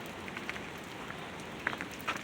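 Light rain patters on outdoor surfaces, a steady soft hiss broken by scattered nearby drips and drops, with no talking.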